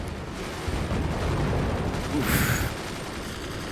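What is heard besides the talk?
swarm missiles launched in the video game Forts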